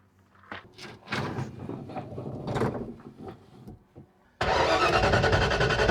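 A Ford Mustang at the Duct Tape Drags, running on a battery borrowed from another car, cranks in a few uneven bursts with pauses, then suddenly catches and roars into a loud, steady idle.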